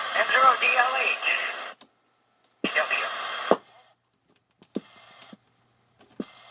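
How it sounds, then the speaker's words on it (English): Squelch noise from a Heathkit 2-meter radio transceiver, bursts of hissing static that cut on and off abruptly several times, separated by silent gaps. "That's squelch."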